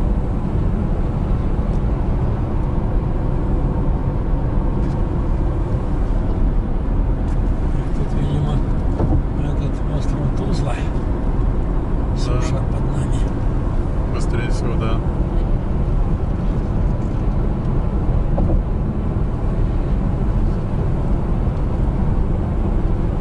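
Steady road and tyre rumble from inside a car crossing the Crimean Bridge at about 70 km/h in December, a continuous broadband drone with faint passing traffic swells.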